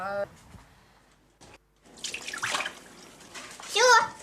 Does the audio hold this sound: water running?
yes